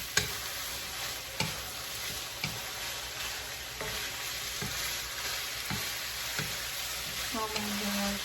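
Pork sizzles and fries steadily in a pan for teriyaki, with repeated sharp clacks of stirring scattered through the continuous crackle; no talking.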